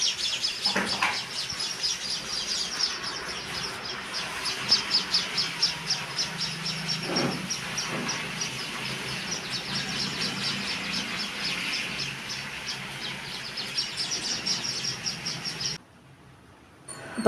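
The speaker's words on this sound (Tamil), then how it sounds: "குருவி பாருங்கள் நல்லா சத்தம் போட்டுக்கிட்டே இருக்குது." Sparrows in a kitchen chimney hood give a continuous run of faint, high, rapid chirps and twitters, fairly distant and steady, briefly cutting off near the end.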